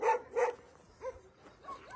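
A German Shepherd barks twice in quick succession up close, then gives softer yips and whimpering whines, with a shelter setting.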